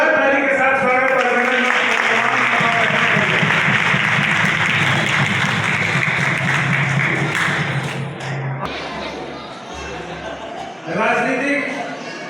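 Loud, sustained applause from an audience at a Chero tribal community gathering, dense clapping over about nine seconds that drops off and then swells briefly again, with voices mixed in.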